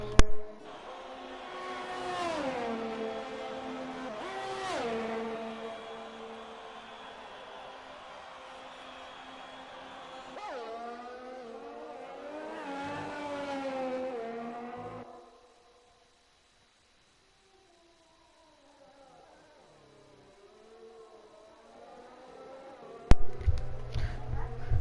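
Formula 1 race car engine in a video game, whining and revving through upshifts and downshifts on a hot lap around Bahrain, loud and continuous, then dropping away to near silence before a sharp burst at the end.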